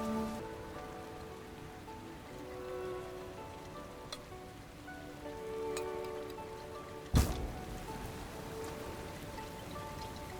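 Steady rain patters throughout in the Napa vineyard setting of the Hundred Days winemaking game, a continuous even hiss with faint musical tones underneath and one brief sharp knock near the end.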